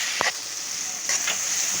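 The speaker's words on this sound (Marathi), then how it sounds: "आता आपले टोमॅटो पण चांगलं परतून झाले" Tomatoes sautéing in a pan for jowar pulao, a steady close sizzle with a couple of soft scraping stirs of a spoon against the pan.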